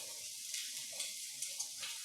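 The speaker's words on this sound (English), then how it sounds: "I'm putting them into a hot pan and brown first" Homemade meatballs browning in a hot pan, a faint, steady sizzle of frying with soft crackles and small pops scattered through, no talking.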